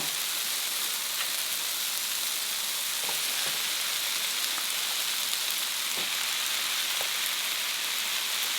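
Bittermelon frying in a hot pan with garlic and onion, a steady, dense sizzle like rain on a surface, continuous and close with a few faint clicks, no talking.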